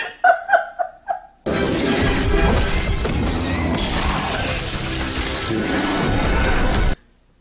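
A glass panel shatters in a video game with a loud, sustained crash of breaking and tinkling glass lasting several seconds, preceded by a few short bursts of laughter.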